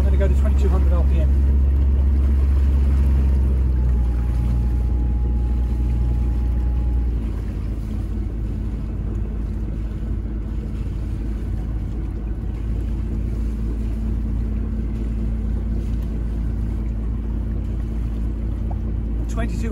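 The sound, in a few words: boat engine running at 2200 RPM with Brunton Autoprop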